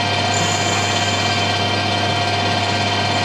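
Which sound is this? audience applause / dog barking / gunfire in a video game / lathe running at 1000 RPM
lathe running at 1000 RPM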